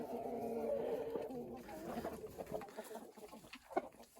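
Chickens and several roosters cluck in a coop, soft and fairly close, with someone talking over them.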